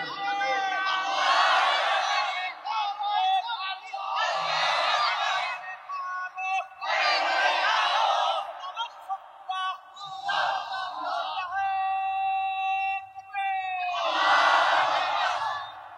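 A large crowd at an outdoor Islamic sermon shouts takbir in repeated loud collective bursts, roughly five surges of voices with short pauses between them, and a lone voice briefly stands out in one gap.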